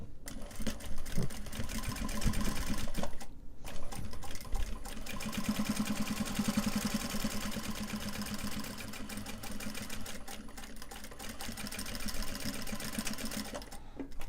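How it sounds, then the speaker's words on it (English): A sewing machine runs steadily while stitching Japanese fabric for a phone purse, a continuous whirring motor hum that carries on for most of the stretch with one brief pause near the start, fairly close and alone. "So what we're going to do is we're going to stitch it from this side."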